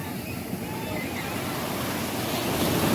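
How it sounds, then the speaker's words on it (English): Ocean waves roll in on the shore as a continuous broad wash of surf with wind noise, steady and fairly close, slowly building toward the end. "you see how these waves are coming in?"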